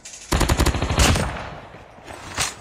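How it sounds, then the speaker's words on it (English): Rapid bursts of automatic gunfire in the Call of Duty Mobile video game, loud and close, with a dense volley early on, another burst near the middle, and a final shot toward the end. "I saw a gunshot, I'm not sure if it was sniper or just gun."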